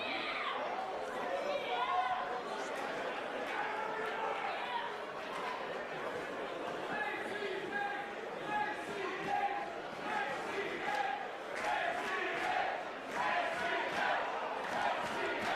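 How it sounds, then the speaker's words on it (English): Wrestling crowd cheering for ACH during a match against Matt Sydal, a loud, dense roar of many voices with rising swells of shouts and chatter that runs steadily throughout. "Do you think it bothers Sydal at all that the crowd is cheering for ACH?"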